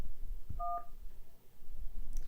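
A single short telephone keypad tone sounds clearly once as a number is pressed during an automated call menu, faint line hiss around it and nothing else.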